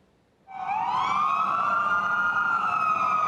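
A fire engine or ambulance siren at a fire rescue drill at a large dome stadium starts abruptly and holds a loud, steady rising wail close by, alone without talk.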